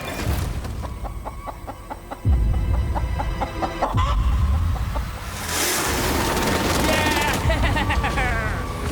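A chicken caught on an island clucks in short bursts amid loud, noisy outdoor background sound, with people talking nearby.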